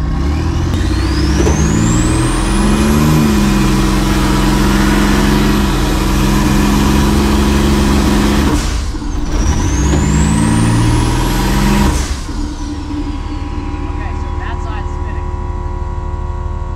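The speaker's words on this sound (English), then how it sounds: "You got an all-wheel drive truck. You got to tie it to something and let it rip, right?" A turbocharged all-wheel-drive S10 pickup revs hard and close, with a sustained loud engine roar and two rising turbo whistles that sweep upward, then the revs drop off near the end.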